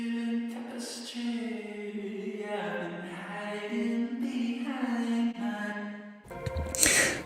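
Music from a mix for a song, drenched in a roomy reverb: a sustained sung or melodic line with a lingering ambient tail, steady and full, ending in a brighter, noisier burst.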